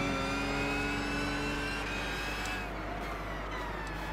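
Engine and turbo whistle from a race car in the driving game Gran Turismo 6, a steady loud drone with high thin whining tones held throughout, no voices.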